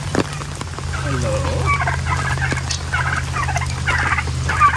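Several free-range turkeys gobble and call over a steady low hum, their warbling bursts scattered throughout at close range.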